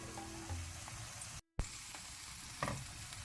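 Small sardines frying in oil in a pan in a Mangalorean coastal kitchen, giving a steady moderate sizzle with a short dropout and brief crackling bursts, near and alone.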